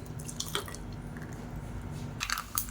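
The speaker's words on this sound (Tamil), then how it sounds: "இப்போ மிக்ஸி அலசிட்டு தண்ணி சேர்த்துக்கலாம்." Water poured into a mixer grinder jar after rinsing, while making a roasted gram dal (pottukadalai) chutney in a home kitchen; brief dripping and splashing bursts near the start and again toward the end, close and moderately quiet, with no talk.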